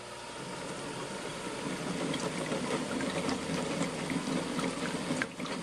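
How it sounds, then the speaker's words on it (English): A Porsche engine runs with its IMS bearing spinning in oil, a continuous, steady mechanical whir and churning hum held close and even for the whole stretch. "watch what happens when we start the engine and we get it going"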